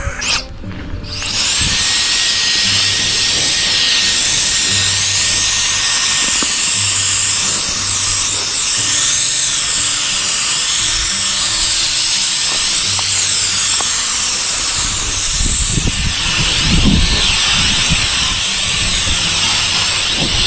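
A powerful snow blower starts up and runs continuously for a long stretch in Edmonton, Alberta, a loud, high-pitched motor whine mixed with rushing, hissing air.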